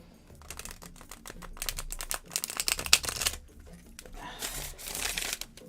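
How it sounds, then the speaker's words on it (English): A tarot card deck being shuffled by hand, with rapid riffling clicks and papery crinkles in uneven bursts, fairly close and alone. "I'm going to shuffle that way one more time."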